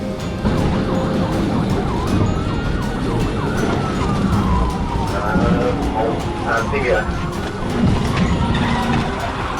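Police sirens wail over roaring engines and traffic noise as officers pursue a Nissan 350Z sports car at over 100 mph on a highway near Baseline and Interstate 30, the siren sweeps loud and continuous throughout.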